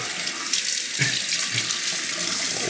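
Tap water runs steadily over a coticule honing stone, rinsing the slurry off in a close, continuous splashing rush with a brief shift in the flow partway through.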